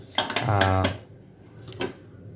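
A metal pressure cooker pot is picked up and set down in a home kitchen, giving a couple of close, ringing clanks followed by a lighter knock.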